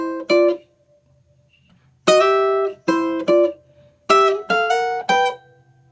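Clean electric jazz guitar plays a song introduction as a melody harmonized in sixths, bright plucked two-note chords in short phrases separated by pauses, close and alone.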